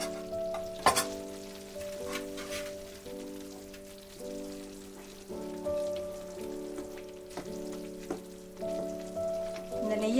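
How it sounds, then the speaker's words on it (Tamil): Ghee Mysore pak mixture stirred nonstop in a pan, a steady close bubbling sizzle with occasional scraping clicks of the spoon and a faint electronic tone in the background, no voices. "கை விடாமல் கிண்டிக்கிட்டே இருக்கணும்."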